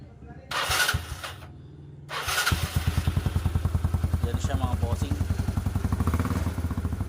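A Yamaha Mio Sporty scooter engine fitted with an aftermarket Apido V1 exhaust revs up loudly with a rapid, throaty exhaust pulse, following brief talk and a couple of thumps.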